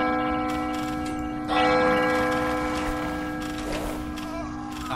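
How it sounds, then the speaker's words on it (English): A loud bell rings repeatedly in a strategy video game, its sustained tone layered over busy game sounds and background music. "That bell is loud as heck,"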